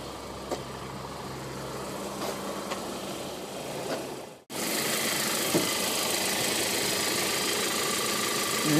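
A 2014 Audi A3's turbocharged 2-liter four-cylinder hums steadily at idle with faint knocking, briefly cut off midway before a louder, brighter engine rumble resumes and continues.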